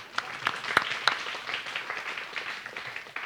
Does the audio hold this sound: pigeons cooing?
no